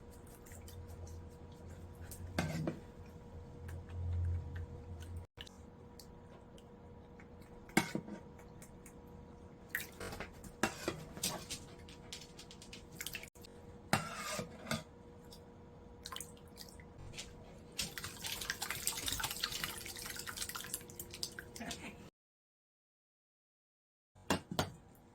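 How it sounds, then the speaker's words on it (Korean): Whey drips from curdled yogurt as it strains into cheese, with soft irregular drips and small wet squishes scattered through a quiet room, and a busier patch of liquid sound shortly before the end. "치즈는 이렇게 물이 다 빠졌습니다"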